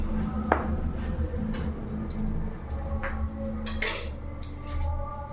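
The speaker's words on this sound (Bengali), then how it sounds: "ব্রেডটাকে আমি এইভাবে করে কেটে নিচ্ছি।" A knife saws through bread slices on a board, with scraping strokes and soft clinks of cutlery against dishes, fairly close, with no talking.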